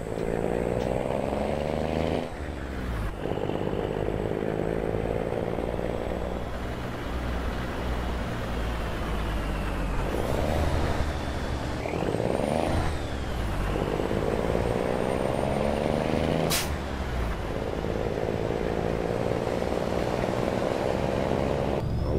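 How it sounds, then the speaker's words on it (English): A truck engine in the video game American Truck Simulator drones steadily for the whole stretch, its pitch rising and falling with throttle changes, with a few brief sharp shifts along the way. "Engine sounds mighty good on this truck."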